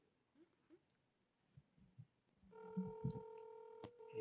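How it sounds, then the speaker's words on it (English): A telephone call rings through on the line, a steady electronic ringback tone that starts partway through after faint soft knocks and rustles, fairly quiet overall. "It's ringing."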